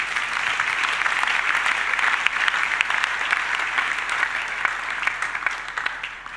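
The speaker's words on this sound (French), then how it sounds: "Acclamons la parole du Seigneur" A church congregation applauds steadily for several seconds, a dense, even wash of clapping that holds strong throughout and does not fade out.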